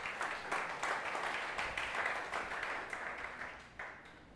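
A church congregation applauds for Jesus during a service, steady moderate clapping from many hands at a distance that slowly fades toward the end.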